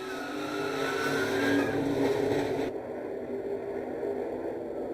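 NASCAR stock cars at the 2013 Daytona 500 skid and slide across the track during a multi-car crash, a loud continuous roar of engines and scraping tires that cuts down abruptly midway to a steadier rumble.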